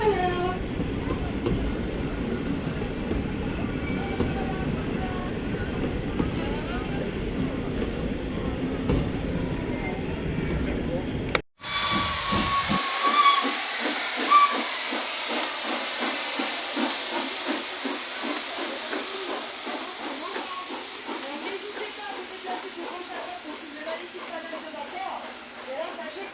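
Steam locomotive on a heritage railway run, heard from aboard: a steady roaring hiss with voices at first, then after a sharp break a rhythmic chuffing and clatter with ongoing hiss, close and loud.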